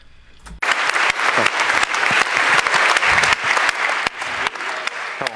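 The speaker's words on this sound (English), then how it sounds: "Give them a big round of applause." Audience applause at the Netexplo Forum awards at UNESCO in Paris, bursting in loudly after a brief quiet moment and continuing as dense, energetic clapping with sharp individual claps standing out.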